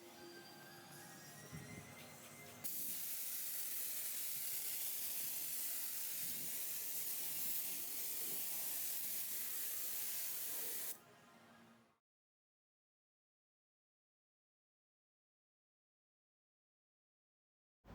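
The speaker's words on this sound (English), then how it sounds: "So I sprayed a bit of SEM rubberized undercoat to protect the underside." Aerosol can of SEM rubberized undercoat sprays onto a car's underside in one steady, loud hiss lasting about eight seconds, with quieter handling noise before it and silence after.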